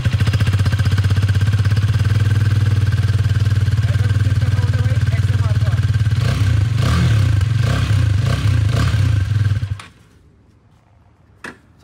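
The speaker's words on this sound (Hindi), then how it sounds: "अब इसको स्टार्ट करते हैं, इसकी भी साउंड सुन लो।" A Bajaj Pulsar NS 400Z motorcycle engine starts and runs loud and close with a deep, bassy rumble and some clatter, then cuts off abruptly near the end, leaving near silence.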